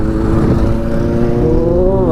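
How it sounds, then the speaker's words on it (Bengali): A J900 superbike engine drones loud and close on a road during a race, its pitch climbing slightly as it revs in one continuous, unbroken roar. "সুপার বাইকের একটা আওয়াজ ও খতরনাক পুরো একেবারে"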